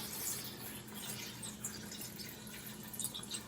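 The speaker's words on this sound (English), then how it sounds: "I'm going to add some water." About four cups of water pour into a pot of green beans with a little bacon grease, giving a faint, steady splashing rush with small droplet ticks; no talking.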